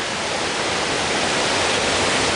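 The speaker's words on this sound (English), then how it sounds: "the creek has gotten much bigger" A mountain creek on a snowy-season hike to Snow Lake rushes steadily, a loud, close, continuous broadband wash of water with no voices.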